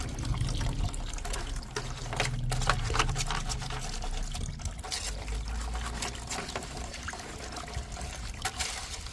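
Water poured and trickling while an incubator is cleaned and brushed out, a steady splashing flow running close by for the whole stretch with no talk over it.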